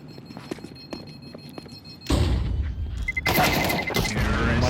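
Rapid SMG gunfire in a Counter-Strike match, preceded by scattered clicks and light taps, then two loud sustained bursts that fill the soundscape close-up with dense crackling.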